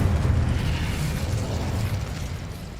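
Confringo fire spell explosion from Hogwarts Legacy, a dense rumbling burst that sustains loudly for a few seconds with a low boom and crackling noise, no voices.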